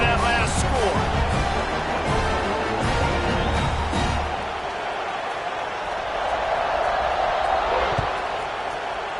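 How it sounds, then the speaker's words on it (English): A football stadium crowd buzzes with a continuous roar around a kickoff, with thuds and bursts scattered through the opening seconds and a commentator talking over the noise. "this crowd is buzzing after that last score"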